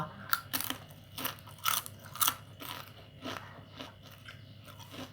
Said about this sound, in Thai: กินขนมกับกาแฟแล้วมากินข้าวต่อ